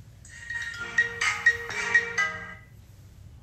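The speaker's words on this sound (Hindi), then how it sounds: "अरे यार ये भी बार बार फोन कर रहा है" A phone ringtone plays a short repeating electronic melody, moderately close, with no voices over it.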